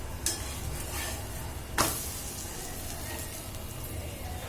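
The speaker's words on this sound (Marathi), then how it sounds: "अलगद पोळी टाकायची आपल्याला थोडं साईडने तेल सोडायचं" A chapati drops onto a hot pan over a high flame with oil poured around its side, giving a soft steady sizzle and a couple of brief scraping touches, close and fairly quiet.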